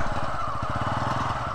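A new Bajaj-style N160 motorcycle idles close by at a parking spot near a temple gate in Lumbini, its engine putting out a steady, even low throb with no pauses.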